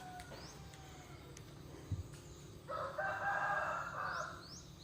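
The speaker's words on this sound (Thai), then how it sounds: "เป็นธรรมชาติมาก มีเสียงไก่" A rooster crows once at a distance over a quiet rural outdoor background, heard from inside a Toyota Yaris, preceded by a faint thump and light bird chirps.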